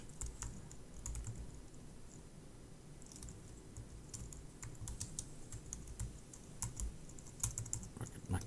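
Close, quiet typing on a computer keyboard, with irregular runs of light key clicks and a few louder taps that continue throughout.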